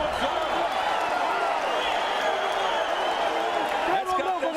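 A boxing crowd in Hollywood, Florida roars continuously, a dense, loud wash of cheering and shouting from a packed arena, with voices talking over it.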